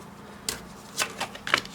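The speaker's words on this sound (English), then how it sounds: "After much a shuffle, let's have a look at what the cards say for you." Tarot cards being shuffled, several brief crisp riffling bursts spaced about half a second apart, close and moderately loud with no voice.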